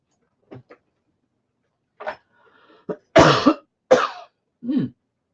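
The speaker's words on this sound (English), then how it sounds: "Excuse my cough." Several short dry coughs and throat-clearing bursts from a single nearby person, spaced irregularly over a few seconds in an otherwise quiet room, with no other talk.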